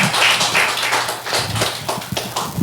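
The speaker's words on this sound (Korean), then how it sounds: "빠른 회복을 위해서 큰 박수 부탁드립니다." A church congregation gives a burst of applause: dense, scattered clapping from many hands, fairly close and lasting a few seconds.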